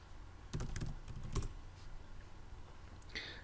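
Close-up typing on a computer keyboard during SAP order entry comes in two quick bursts of clicking keystrokes separated by quiet hum, followed by a soft click near the end.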